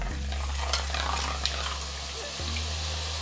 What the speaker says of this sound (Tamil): நம்ம இப்போ பூந்தியை பொரிச்சு எடுத்துக்கலாம்.